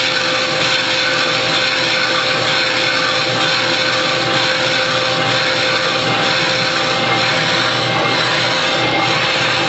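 Railroad wheel being turned on a lathe under power feed, a continuous loud grinding, whirring cut holding steady for nearly ten seconds with no pauses.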